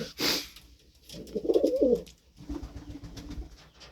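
Pigeons coo softly nearby in low, rolling murmurs, with a brief rustle or flutter at the start and quiet background between calls.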